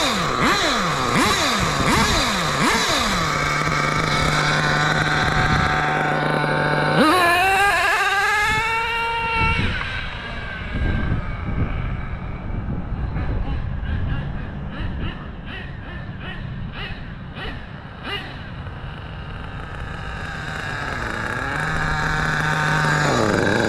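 An HPI RS4 RC car with a big block engine runs loud and close, its high buzzing whine rising and falling through revs and gear changes, with a bogging dip partway through before it climbs again.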